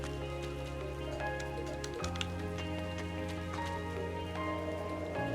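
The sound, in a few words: rain in Station Square, from the video game Tokyo Xanadu eX+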